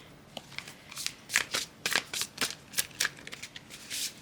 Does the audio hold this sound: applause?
no